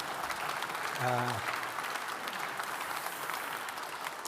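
Audience applause at a corporate presentation, a soft, continuous spread of clapping heard at a distance, with a brief spoken word near the start.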